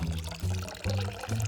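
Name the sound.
water being poured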